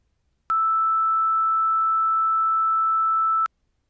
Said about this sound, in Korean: 두 번째로 들려드릴 거는 1018Hz 6옥타브 미